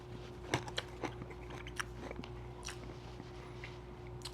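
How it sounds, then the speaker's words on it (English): Crunchy breakfast cereal being eaten, a few sharp bites and crunches spaced out close to the mic over a steady low hum, with quieter chewing in between. "so I gotta eat my cereal."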